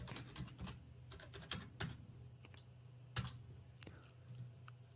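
Quiet tapping on a computer keyboard, an irregular run of soft clicks with a few sharper keystrokes, faint and close, with no talking.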